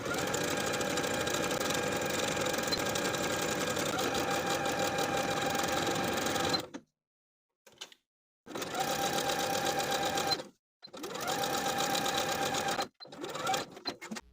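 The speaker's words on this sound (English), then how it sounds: "Sew or serge the neckband to the neckline with a 1/4 inch seam allowance." A sewing machine stitching a neckband onto a tee shirt neckline, a close, fast, steady mechanical whirring hum for several seconds, then stopping and restarting in shorter bursts separated by silent pauses.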